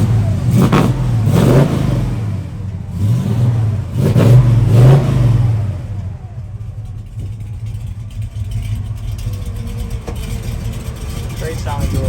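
A 1966 Chevelle big block V8 with a 5-speed revs hard through dual exhaust, several deep rumbling blips up close, then settles to a lower idle burble.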